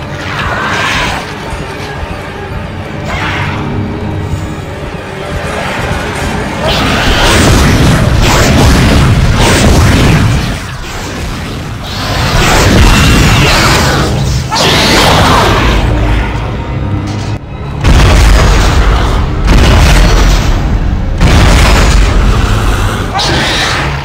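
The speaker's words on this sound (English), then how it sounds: "Little babies can't handle the force gun up close." Booming force gun blasts fire at close range in the Dead Space video game, several loud heavy bursts with whooshing tails, mixed with game noise and someone talking over them.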